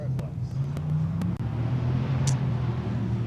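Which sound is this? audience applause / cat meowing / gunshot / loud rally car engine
loud rally car engine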